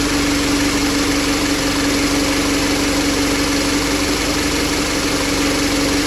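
A 2.0 liter car engine with a mass air flow fault idles steadily, a constant close hum with a low drone and no other sounds.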